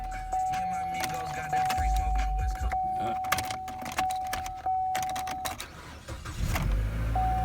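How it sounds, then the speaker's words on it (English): A salvage-auction car's engine cranks and catches, then settles into a close idle, with clicks and rattles around it and a steady electronic warning chime sounding most of the time. "You get it to crank up."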